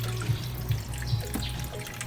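Water poured into a pan while cooking adobong sitaw, a short steady splashing flow with a few brief glugs, close and alone.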